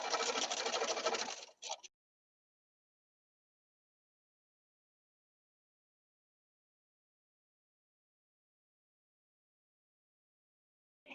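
A sewing machine stitches a quilt block seam in a short fast burst of rapid whirring stitches, close and clear, then stops, with silence after and a brief restart at the very end.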